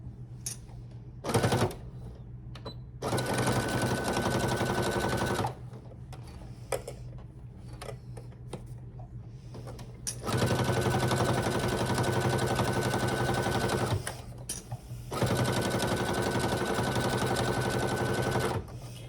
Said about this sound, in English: So I increased the speed of my machine, and that's why it's making that awful noise